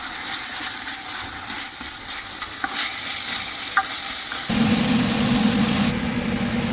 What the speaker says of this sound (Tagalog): gigisahin natin ang chicken para matanggal ang lansa hanggang sa mag-brown